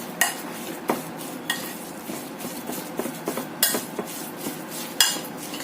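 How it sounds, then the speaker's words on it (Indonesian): Spoon stirring a siomay mixture of carrot and corn in a bowl, giving repeated scraping strokes with a few sharper knocks against the side, close and fairly quiet, with no voices. "Kita aduk lagi sampai semuanya tercampur rata."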